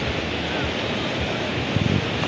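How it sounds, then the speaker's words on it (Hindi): The flooded Beas river in Himachal Pradesh rushes past in a loud, continuous roar of fast water, with a few low thumps near the end and no speech. "तो पानी की रफ्तार बहुत तेज़ है।"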